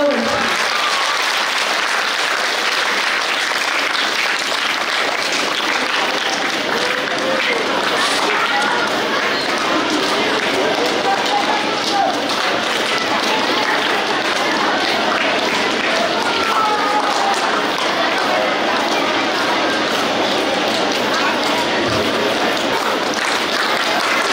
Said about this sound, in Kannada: ಮಕ್ಕಳೇ, ಜೋರಾದ ಚಪ್ಪಾಳೆಯೊಂದಿಗೆ ಶ್ರೀಯರನ್ನು